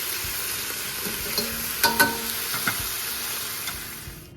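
Beef fries in a pan for hibachi fried rice with a constant close sizzle, punctuated by a few light scrapes and clinks as it is stirred.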